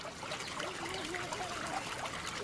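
Water trickles and burbles steadily through an open sewer channel in a village along the polluted Citarum river, a continuous faint gurgling with no voices.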